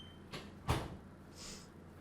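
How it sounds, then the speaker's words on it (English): An indoor door shuts with a single solid thump, preceded by a softer earlier bump and followed by faint rustling, heard from a short distance in a quiet room. "I heard his door close."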